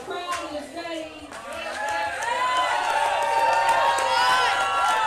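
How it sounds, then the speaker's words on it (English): A packed powerlifting meet crowd cheers and shouts as a lifter makes his 628 third attempt at a USPC event, voices swelling and sustaining loudly throughout. "Packed house. Everyone on their feet. Cheering for Nate."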